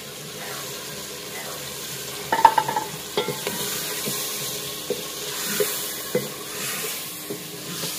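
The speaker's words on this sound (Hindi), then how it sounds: "साले को तड़का लग चुका है तो अब इसमें चिकन डालते हैं।" Chicken sizzles and crackles in a hot pan over tempered spices, with clinks and scrapes of a utensil stirring at irregular intervals.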